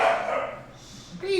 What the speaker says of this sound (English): Holy cow, you hear my dog?